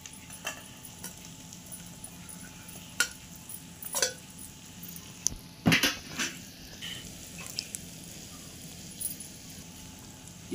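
Chicken pieces being stirred into eggs in a pan, with scattered clinks of a utensil against the pan and soft frying underneath, one louder scraping clatter in the middle, close and fairly quiet.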